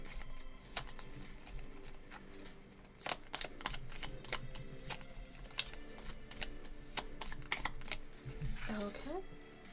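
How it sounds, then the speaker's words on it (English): Tarot cards being shuffled by hand in a series of quick riffling bursts and soft slaps, close and fairly quiet, with a person speaking at times. "now I'm shuffling for your question"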